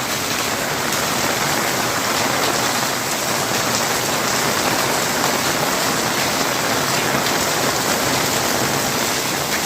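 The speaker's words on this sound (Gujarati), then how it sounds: "જબરજસ્ત વરસાદ ચાલુ છે." Heavy monsoon rain pours steadily near a river amid green countryside, a dense, loud, unbroken hiss of drops hitting surfaces with no talk over it.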